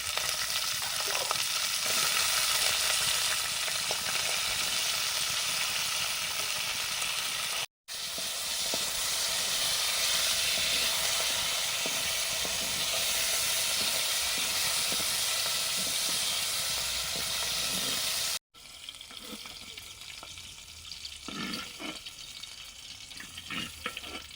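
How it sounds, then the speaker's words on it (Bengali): Drumstick stalks fry lightly with salt in a pan, giving a continuous hissing sizzle with two brief cuts, then a quieter stretch with stirring sounds. "লবণ দিয়ে সজনে ডাটাগুলো হালকা ভেজে নিচ্ছি"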